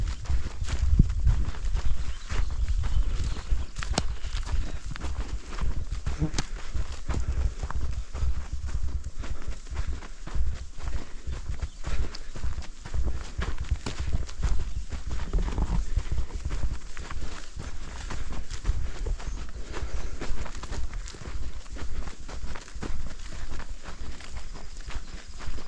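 Steady clip-clop of wild horses' hooves walking on hard ground in Oregon, a continuous rhythmic patter close by with occasional heavier thuds.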